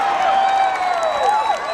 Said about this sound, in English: you could get a Bruce Springsteen-sized cheer just for saying the Earth is over 4 billion years old